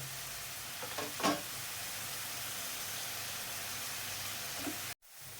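Steady frying sizzle of spice paste for egg curry, with a few brief stirring scrapes near the start, heard close and alone before cutting off near the end.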